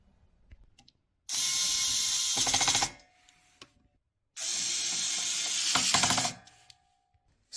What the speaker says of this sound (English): So I'll just screw them in now.